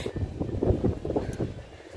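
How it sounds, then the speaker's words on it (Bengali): Wind gusts across an open rooftop, a steady broadband rush with buffeting against the microphone, heard up close, continuous and fairly loud for two seconds without clear speech. "এই যে বাতাস,"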